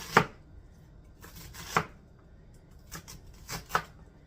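A knife chops frozen spinach into small pieces on a board in a few quiet, separate strokes, each a short crisp thud, with pauses between them and no talking.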